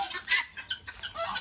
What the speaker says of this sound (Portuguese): Agora a gente vai soltar os perus para depois jogar um capinzinho para eles aqui.